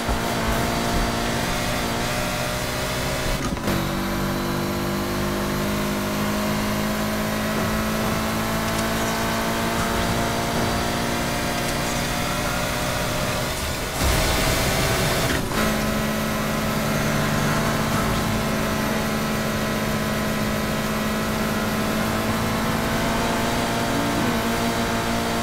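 A Nissan 180SX engine roars steadily in Need for Speed Heat, sustained high revs with gear-shift dips and a brief louder surge, loud and continuous under a music bed.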